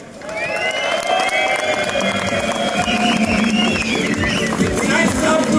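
A large festival crowd roars with sustained cheering, whistles and applause, loud and dense throughout, with shouting voices rising over the steady wash of clapping.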